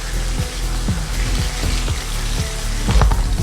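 Longganisa burger patty flipped in a frying pan, giving a steady close sizzle of hot oil with repeated scraping clinks from the spatula and a louder crackle near the end.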